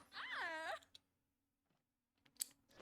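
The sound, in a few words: yawn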